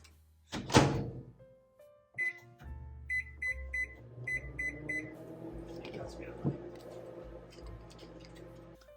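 A microwave oven hums steadily after a door thunk and a few electronic keypad beeps, heating water to boil, with a low running drone continuing to the end.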